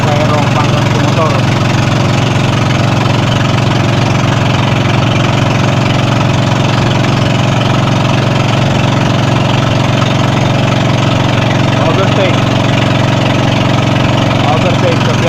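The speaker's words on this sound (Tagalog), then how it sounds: "pampasahirong Bangkang de Motor." A passenger motorboat's engine drones steadily and loudly throughout, a constant low rumble with no breaks.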